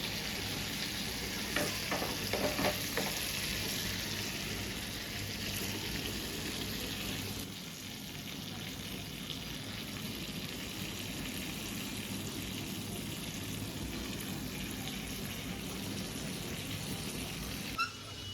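Prawns sizzle steadily in hot oil in a pan through a long, even frying hiss, with a few scraping stirs and flips early on.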